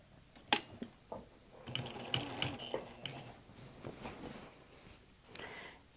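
A sewing machine stitches quilt binding in short mechanical bursts, with clicks and whirring runs separated by pauses, close and moderately quiet.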